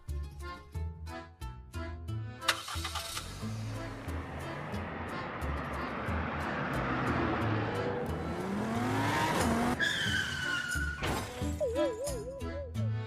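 Animated car accelerating hard after the gas is pressed instead of the brake, with revving engine, tire squeal and a sharp shattering crash, followed by cartoon sound effects and a brief rising whine.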